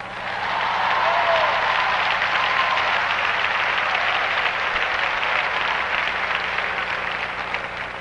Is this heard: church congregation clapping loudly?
yes